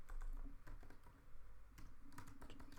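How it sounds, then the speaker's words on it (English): Fingers tapping on a computer keyboard while entering text in Photoshop, a quiet run of irregular clicks and key strikes, close and alone, with brief bursts of faster typing. "now let's type in"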